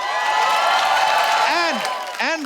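A studio audience at a comedy talk show applauds and cheers to welcome guests, a dense sustained wash of clapping and whoops, while a voice calls out over it near the end.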